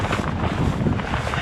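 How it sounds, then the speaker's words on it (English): Southwesterly wind gusting at about 20 mph on a coastal bass fishing trip, a steady loud roar buffeting the microphone, with no clear speech. "got a wee bit of southwesterly wind. I think it's gusting 20 mile an hour"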